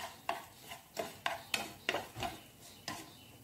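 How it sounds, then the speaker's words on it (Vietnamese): Duck filling with pepper is stir-fried in a pan, producing a close, rhythmic series of scraping spatula strokes against the pan, about eight in a row, over a faint sizzle. "Mình sẽ xào cho nó chín nhé các bạn nha."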